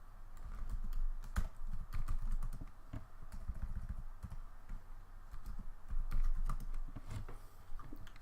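Quick clattering keystrokes on a computer keyboard while entering a Linux command, an irregular run of close, light taps with brief pauses between bursts.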